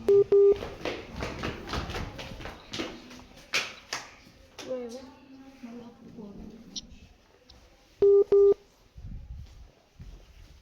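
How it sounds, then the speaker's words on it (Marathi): Several short bursts of phone dialing tones for a video call, one near the start and another pair later, with someone talking in between. "अरे थांब, मला फोन करू दे."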